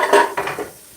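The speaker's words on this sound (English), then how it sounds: "We're going to swap pots." Metal cooking pots clank and scrape against each other as they are swapped on a stove, two quick close knocks followed by a brief rattle, with no talking.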